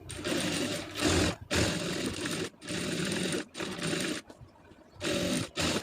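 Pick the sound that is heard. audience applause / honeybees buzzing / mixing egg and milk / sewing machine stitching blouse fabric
sewing machine stitching blouse fabric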